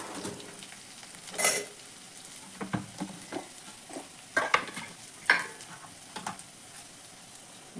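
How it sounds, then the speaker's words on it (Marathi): Masala spices and cumin roasting in a pan give a soft crackling sizzle, punctuated by several sharp scraping stirs and clatters of a spoon, close and intermittent. "हे सगळं छान रोस्ट होऊ द्यायचं"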